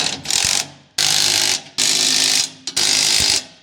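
A ratchet tightens U-bolts on a vehicle's suspension, passenger side, in four loud, close bursts of rapid metallic clicking separated by brief pauses.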